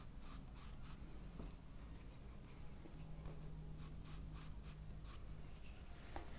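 A pencil scratches and rubs across paper while a mannequin figure is sketched, a close, continuous soft scraping with short quicker strokes.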